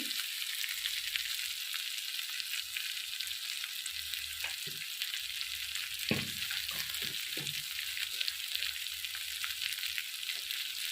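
Turmeric and coriander powder frying in oil for a vegetarian jackfruit (enchor) curry, a steady hiss with a few louder sizzling pops and stirring clinks, close and continuous throughout.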